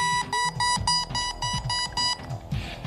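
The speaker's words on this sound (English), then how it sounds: "I've never tried it blindfolded with a softball that beeps" A beeping softball used in blindfolded baseball gives out a rapid, evenly spaced series of loud electronic beeps, about eight in quick succession, then stops.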